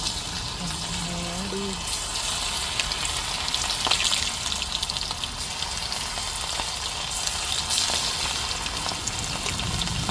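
Chicken pieces frying in hot oil, a loud, steady, close sizzle throughout, with faint tones and a voice in the background early on.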